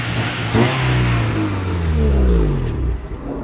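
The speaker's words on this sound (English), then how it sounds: "Sam is going for test drive." A cheap used Honda Civic revs and accelerates hard on a test drive, the engine note climbing in pitch through the gears, loud and steady from inside the car with no talking.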